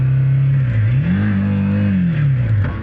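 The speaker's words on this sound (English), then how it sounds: "I'm sure there was going to be some high revs with wrong gear changes coming up." Motorbike engine revving loudly and steadily in a low gear on a Himalayan high-desert dirt track, its pitch dropping, climbing sharply, holding high, then sinking again over a few seconds, close up and with no talk.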